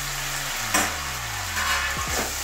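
Potatoes and kundru (ivy gourd) fry in a pan with a steady, close, dense sizzle that runs throughout, with a brief clatter near the start and a few faint scrapes of stirring; no speech.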